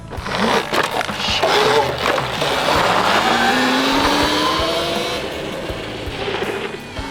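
A giveaway vehicle's engine runs close by and loud, rising in pitch as it revs and accelerates, then easing off toward the end, with rough mechanical and tire noise underneath.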